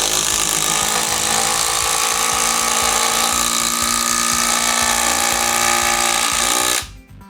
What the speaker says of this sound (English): Instead of creating rotational forces that could kick back at you, it uses that hammer and anvil to spin the lag fastener.